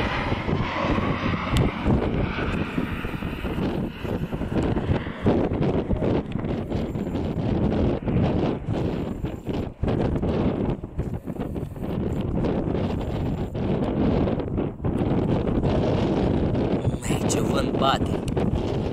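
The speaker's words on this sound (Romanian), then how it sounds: "Ai, ai, ai, ai, ai, ce vânt bate." Strong wind buffets the microphone in heavy, continuous rumbling gusts at a parachuting site in Bacău, Romania, with a voice exclaiming in Romanian over it.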